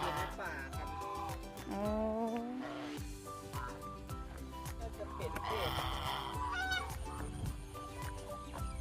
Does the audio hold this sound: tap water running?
no